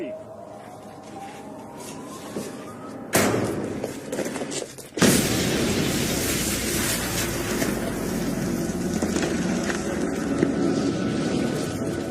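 Explosion sound effect in a dramatized wartime scene: a sudden loud blast, then a second heavier blast that leaves a sustained roaring rumble, with someone speaking before and over it.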